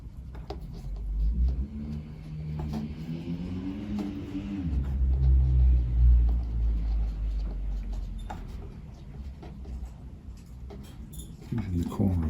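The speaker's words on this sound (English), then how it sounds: "It's a noisy car, isn't it?" A car with a loud, rough exhaust rumbles past outdoors, swelling over several seconds as it nears and then fading, with a person talking under it.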